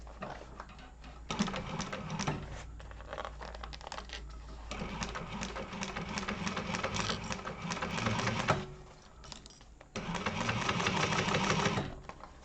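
A sewing machine runs in several bursts of rapid, even stitching, with short pauses and a quieter gap between runs, close and moderately loud in a sewing class setting.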